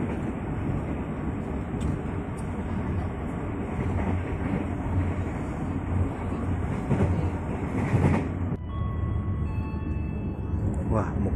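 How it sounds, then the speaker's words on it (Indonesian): From inside a passenger train passing straight through Telaga Murni station near Bekasi without stopping, a loud steady rumble of wheels on track fills the carriage, with rattles and brief higher tones, while people talk. "Ini kita melintas langsung stasiun Telaga Murni"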